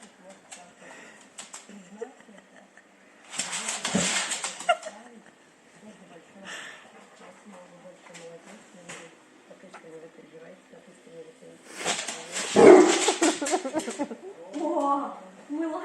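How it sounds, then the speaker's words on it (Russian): A Labrador barks in short bursts near a robot vacuum cleaner indoors, loud clusters standing out amid quieter shuffling, with people talking around the barks. "О, мы лаять начали."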